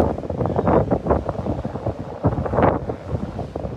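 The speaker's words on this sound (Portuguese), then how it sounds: "O vento tá muito forte." Strong wind in Perth, Australia buffets the microphone in loud, gusty bursts, a continuous rumbling roar that swells and dips without letting up.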